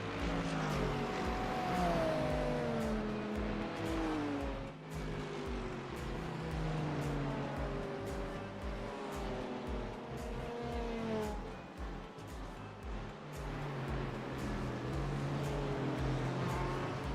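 Race cars at Watkins Glen, including LMP2 and GTP prototypes, heard from inside a car with a constant engine roar, rising and falling pitch sweeps as gears change and other cars pass, continuous and close.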